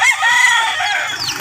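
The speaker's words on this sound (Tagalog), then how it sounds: "Sa dami ng manok." Roosters and hens in a Philippine farmyard on a hot day, a close, loud crow stretching over most of the moment with clucks and a second fainter call overlapping near the end.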